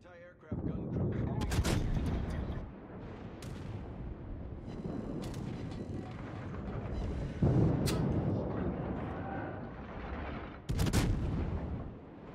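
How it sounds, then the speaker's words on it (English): Anti-aircraft guns on a warship firing in World of Warships, a dense, rumbling barrage of repeated booms and bursts, with a few louder blasts standing out and speech mixed in. "AA gun range, 6K. He's in range! Anti-aircraft gun crew."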